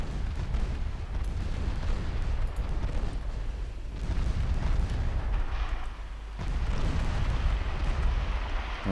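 Torpedoes striking and exploding against warships in Ultimate Admiral Dreadnoughts, a dense run of heavy booming blasts with short lulls between bursts, loud and close, without speech.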